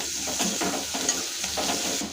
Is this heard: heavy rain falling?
no